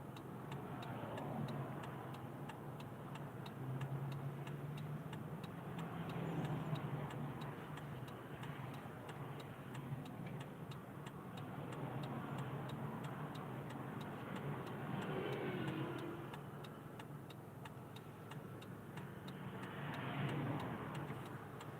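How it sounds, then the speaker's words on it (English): A car approaches through a trailer park, a low steady engine hum with faint rhythmic ticking that swells gently at moments over about twenty seconds, quiet and distant, with no talking. "There's a car coming in there."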